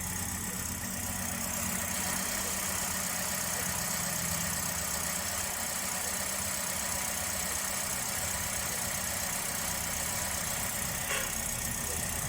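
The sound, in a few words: repaired car engine running at idle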